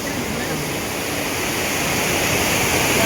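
A waterfall pours down onto its base pool, giving a steady, loud broadband roar that holds constant and swells slightly toward the end, with no talk over it.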